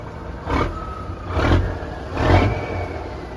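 A cabover truck engine idles with a low rumble and is revved three times in quick succession, each rise swelling and falling back, fairly close.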